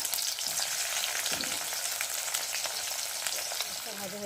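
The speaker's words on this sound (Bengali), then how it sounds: "এখন আমি পেঁয়াজগুলো দিয়ে ভালো করে ভেজে নেব" Onions fry in a pan with a steady, dense crackling sizzle and occasional stirring scrapes, close and continuous, with no voices over it.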